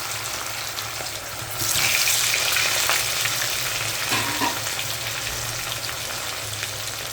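Potatoes frying in hot oil for chicken biryani, a continuous bright sizzle that swells louder as they go in, with some stirring and a faint clink partway through.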